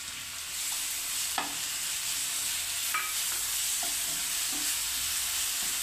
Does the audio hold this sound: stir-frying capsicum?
yes